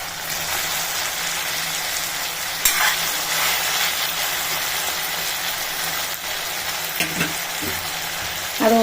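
Tomato and brinjal sauté in hot oil for a kuzhambu, a steady close-up sizzle running the whole time with a few soft stirring scrapes and clicks near the end.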